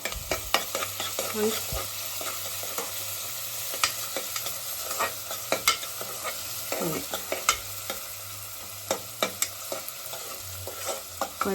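Onions sizzling and frying in a pan on the way to road-side egg rice, with a steady sizzle broken by sharp, irregular scrapes and clacks of a spoon stirring close by.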